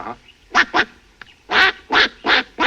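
A person imitates a duck with a series of loud, nasal quacks, two quick ones followed by four more after a short pause, close and alone.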